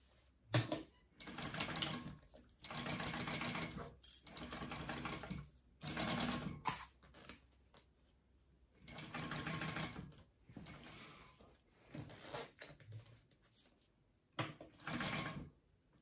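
A sewing machine bastes fabric pieces for a handbag in a series of stitching bursts, each lasting about one to two seconds, separated by short pauses, close and steady.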